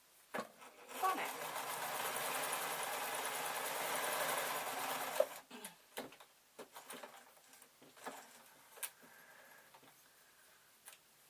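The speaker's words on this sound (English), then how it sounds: "I get to sew up until my doofy marker" A sewing machine stitches the inside of an Easter bonnet in one steady whirring run of about five seconds, then stops, leaving scattered light clicks and handling knocks.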